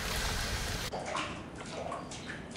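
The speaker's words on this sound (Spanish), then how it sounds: "¡Ay, escuché el agua! ¡Fuga de químicos!" Water rushes from a chemical leak in the PS4 game Spider-Man, a loud burst of gushing flow at first that eases into lighter, uneven splashing and trickling.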